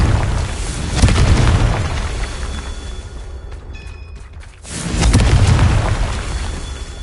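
Deep, booming fire-spell explosions from the Hogwarts Legacy video game, a heavy blast at about one second and another swelling roar near five seconds, over a rumbling, loud backdrop.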